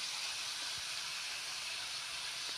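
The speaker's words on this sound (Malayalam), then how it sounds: "എണ്ണയ്ക്കകത്ത് കിടന്നങ്ങോട്ട് തിളയ്ക്കുന്ന കണ്ട" Tapioca slices frying in a small amount of bubbling oil give a steady, quiet broadband hiss, continuous and even throughout with no voices.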